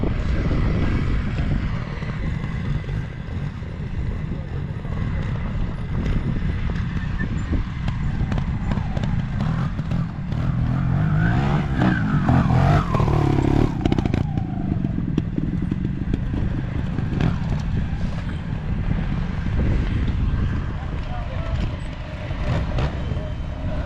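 A new grey-framed Beta trials motorcycle rides at an evening trial, its engine running steadily at close range throughout with wind buffeting the microphone and some clattering.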